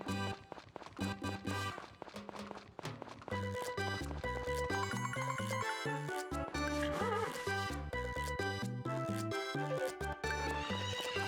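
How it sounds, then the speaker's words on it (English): A horse in the Harvest Moon farming game whinnies loudly over continuous game music, with clip-clop hoofbeats and a light jingle mixed in. "I guess my horse disappeared for most of the day."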